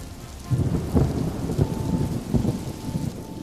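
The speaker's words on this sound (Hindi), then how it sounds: "धीरे धीरे करके बारिश बहुत तेज हो जाती है" Heavy rain with thunder used as a storm sound effect in a Hindi moral story: dense, steady rainfall with several deep rumbling thunder bursts rolling through, loud and close, with no voices.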